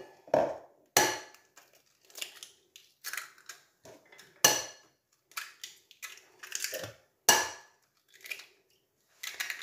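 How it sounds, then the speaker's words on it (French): Three eggs are cracked into a bowl while making a tart, heard as a series of sharp, close cracks and taps with quiet gaps between them and no talking. "dans mon bol ici, je vais y casser mes 3 œufs"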